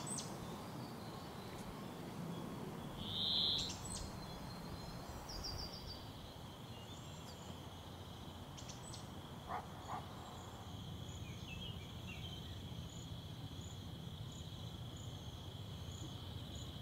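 Night ambience in a Unity and Wwise game scene: steady crickets and insects chirring at low level, with a few scattered faint bird calls over a soft, continuous background.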